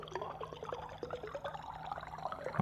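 Water trickles and gurgles into an empty bottle in the game Stationeers, a faint, continuous filling sound with small drips and bubbles and a low steady hum behind it.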